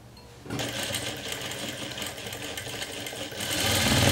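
A domestic sewing machine runs steadily while stitching a beginner's jumpsuit, starting abruptly after a brief pause and backstitching at the end of the seam, a close, continuous mechanical whir that grows a little louder near the end.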